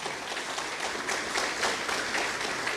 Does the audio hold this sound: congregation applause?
yes